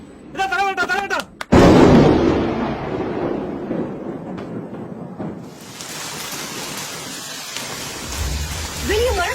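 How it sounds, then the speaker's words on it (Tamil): Rain falling outside a jail during a film scene, a steady broadband wash that swells after a sharp burst and continues under brief voices and rumbling. "வெளிய மழை பெய்யுது."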